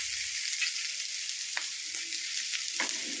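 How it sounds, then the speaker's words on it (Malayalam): Curry leaves sizzling in hot oil for a pork curry, a steady high crackling hiss with a few soft pops and stirring clicks, close and continuous with no talk. "കുറച്ച് കരിവേപ്പില ഇട്ട് കൊടുക്കാം."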